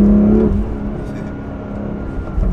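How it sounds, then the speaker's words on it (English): A BMW M2 Competition's inline-six engine pulls from close by inside the car, a loud, smooth droning tone that starts with a strong pitch and settles into a steady running hum. "And that's how these inline sixes sound."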